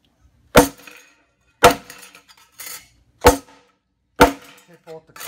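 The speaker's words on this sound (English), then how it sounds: "We're going to hit each sample with the ball peen hammer to make indents to show the flexibility." Ball peen hammer striking coated and uncoated test samples, four sharp loud metallic impacts at roughly even intervals, each followed by a brief ringing rattle.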